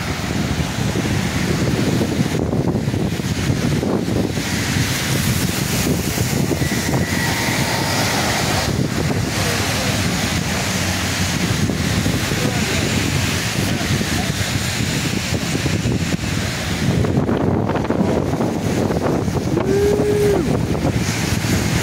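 Strong wind gusts roar during a high wind advisory in Gatlinburg, a loud, constant rush buffeting the microphone for the whole stretch. Faint voices are buried beneath it.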